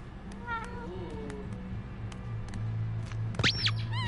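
Game cat in Life is Strange: True Colors gives several short rising meows, then a louder, sharper meow near the end over a low ambient hum, with faint background sounds.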